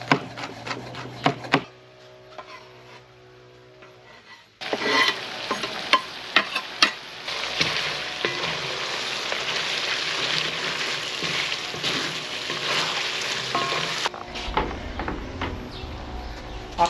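Onions frying in a cauldron alongside lamb, a steady hissing sizzle that starts after a quiet stretch, broken by stirring scrapes.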